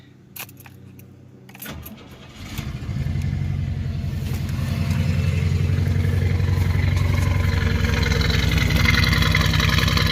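A 1989 Chevy Celebrity with a V8 cranks over after a few clicks, then catches and settles into a loud, close, rough idle that runs steadily to the end.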